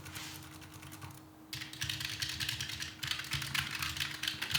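Rapid typing on a Razer Huntsman Mini compact keyboard, a dense close-up clatter of keystrokes with a brief pause early on, heard alone over a faint steady hum.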